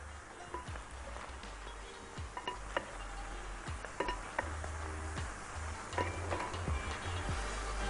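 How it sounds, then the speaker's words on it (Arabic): Two wooden spoons toss rice with vegetables and tomatoes in a bowl, making irregular soft knocks and scraping clatters, close up and repeating through a low steady background hum. "نقلب الكلام ده كله مع بعضه"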